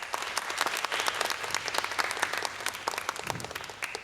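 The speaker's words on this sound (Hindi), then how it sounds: "उनके इंट्रोडक्शन से पहले ही उनके लिए तालियां" Sustained audience applause on a talk show greeting the arriving guest, a crisp wash of many hands clapping at once, steady and lively throughout with no talking.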